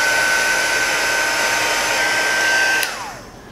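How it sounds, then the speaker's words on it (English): A heat gun shrinks tubing over wires for a steampunk robot pipe lamp, blowing with a loud, steady hiss and a thin whine, then cutting off and spinning down near the end. "if you just have a nice heat gun"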